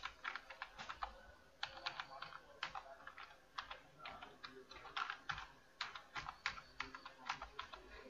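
Keys clatter on a computer keyboard as an email address is typed into an online passport application form, with quick irregular bursts of taps and brief pauses between them, close and fairly quiet.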